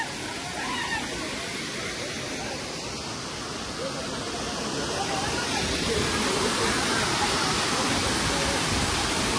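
Dhodhadi waterfall roars with broad, continuous rushing water close by, its fast flow filling the scene at a steady loud level that swells slightly toward the end, with a voice faintly under the roar.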